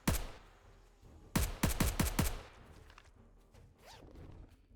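AK rifle fire in the 7 Days To Die video game: one opening shot, then a quick burst of about five loud, evenly spaced rounds, fading into quieter game ambience with a faint whoosh near the end.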